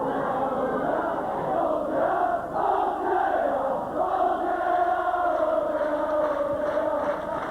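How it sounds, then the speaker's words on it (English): Hull KR rugby league supporters cheering and chanting from the popular side of the ground, a steady distant crowd roar rising and falling without a break. "a rather large sprinkling of Hull KR spectators over on the popular side here, as you can probably hear, cheering the team on"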